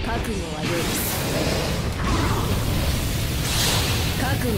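Special-move effect from the PS3 game BLEACH Soul Carnival: a sustained, loud roaring burst with whooshing sweeps and booming crashes that runs continuously throughout, with brief chirping tones layered in.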